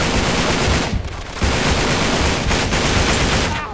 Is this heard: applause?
no